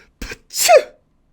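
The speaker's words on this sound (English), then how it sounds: "Her second sneeze drowned out the words" A single sharp sneeze, a quick intake followed by an explosive burst, close by, with silence afterward.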